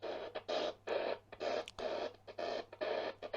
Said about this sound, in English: Again, it's just wall-to-wall interference on medium wave.